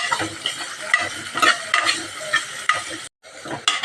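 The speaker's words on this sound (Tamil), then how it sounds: "எண்ணெயிலேயே ஒரு ரெண்டு நிமிஷத்துக்கு நல்லா கேரட் போட்டு நல்லா எண்ணெயில் வதக்கட்டும்" Carrots stir-fried in oil for Mysore paruppu sambar, a steady sizzle broken by repeated scraping stirs of a spatula in the pan, close and fairly loud with a brief silent break near the end.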